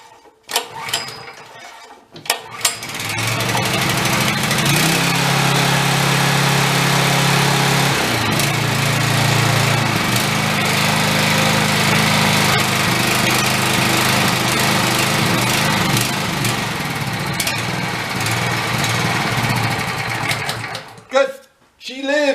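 A small engine with its choke on is kick-started and then runs steadily, a loud, buzzing, sustained drone that briefly shifts in pitch before cutting out near the end.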